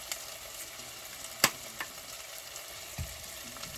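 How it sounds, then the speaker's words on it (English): Meatballs browning in a pan with cheese stirred in give a faint, steady sizzle, broken by a few soft scrapes and taps of a utensil, with no voices. "Okay, stir that in there. Now remember guys, the main time these meatballs are going to cook, we're just browning them right now."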